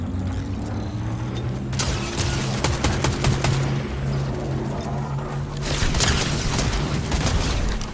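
Rapid gunfire crackles through a video game gunfight in a trios battle royale match, with dense bursts of automatic shots and clattering mechanical sounds, loud and close, in several volleys.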